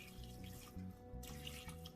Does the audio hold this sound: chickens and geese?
no